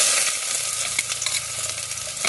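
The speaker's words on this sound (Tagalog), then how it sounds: "Gisa po tayo ng luya." Ginger sautéing in a hot pan as the base for a rice porridge with meat gives a loud, dense, close sizzle throughout, with faint stirring scrapes and no talk.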